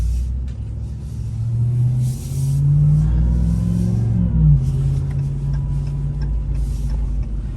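A $100,000 work truck pulls away from a standstill, its engine rumbling up through rising gears with a loud, close drone that climbs and shifts and then settles into a steady cruise.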